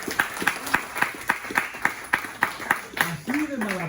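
Rhythmic clapping from a church congregation during a sermon, steady beats about three per second, with a voice speaking over the top near the end.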